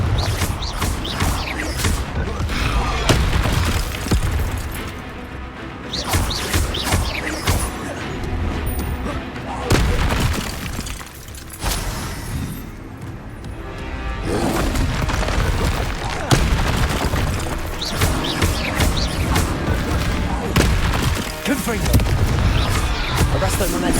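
Fire-spell explosions from Hogwarts Legacy blast repeatedly in a dense, loud game battle, with booming impacts layered over continuous combat noise and occasional shouted spell voices.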